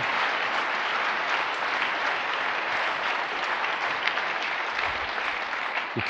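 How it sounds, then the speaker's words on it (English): A large live audience at a 2018 superstar retreat session in Las Vegas gives a big round of applause, steady dense clapping that fills the room at even loudness for several seconds with no talk over it. "come on, give them a big round of applause."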